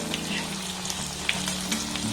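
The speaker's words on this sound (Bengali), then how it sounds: "এইভাবে উল্টে পাল্টে আমি একটু ভালোভাবে ভেজে নেব" Food sizzles and crackles steadily in hot oil, with small pops scattered through the constant frying hiss.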